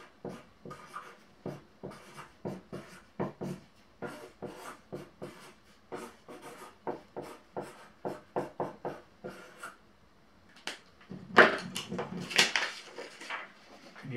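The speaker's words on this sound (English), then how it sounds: "I'm going to write it down on a piece of paper here." A pen scratches out words on a piece of paper in quick, rhythmic strokes that are close and fairly quiet, followed by a short pause and then some louder rustling and handling of the sheet.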